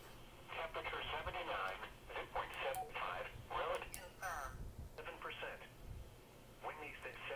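A Baofeng UV-5R handheld radio set to narrow band plays received audio: a narrow, tinny voice with a faint hiss and brief tones, low in level.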